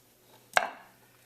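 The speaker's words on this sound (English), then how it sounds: "I'm just using my paring knife and I'm making a couple cuts" A paring knife makes a single crisp cut into the curved underside of a raw shrimp, one sharp close tap that fades quickly against near silence.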